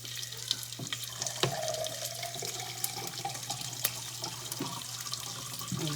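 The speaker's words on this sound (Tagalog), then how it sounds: "Lagyan natin ng tubig." Water pours steadily into a cooking pot over onions on the stove, a continuous splashing trickle with a few sharp clinks, close and fairly quiet, no talking.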